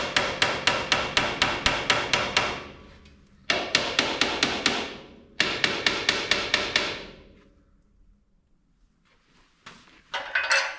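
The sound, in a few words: hammering a blunt chisel on a 1928 Allis Chalmers tractor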